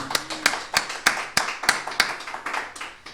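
A few hands clap in a steady rhythm at a podcast, about a dozen sharp claps close by, no talking.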